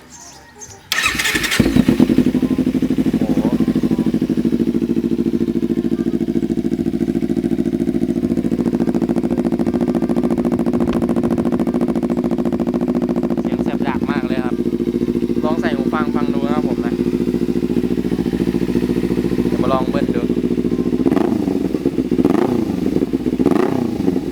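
A Kawasaki Ninja 300 ABS motorcycle with a loud aftermarket exhaust starts and idles loudly with a steady rumbling exhaust, with a few short throttle blips near the end.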